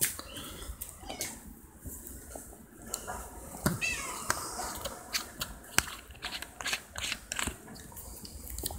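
A cat meows a few times at close range, mixed with scattered clicking and rattling mechanical noises.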